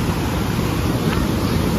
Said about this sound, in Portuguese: aqui é aquela queda da última cachoeira que a gente mostrou pra vocês